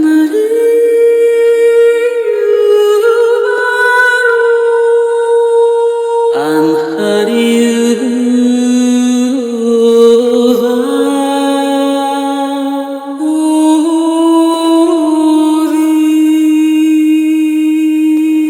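A dark, ethnic-style sampled vocal melody from the Kontakt White Magic Ethno Major library, with held sung notes that glide between pitches in continuous phrases, loud and alone, for a UK drill beat.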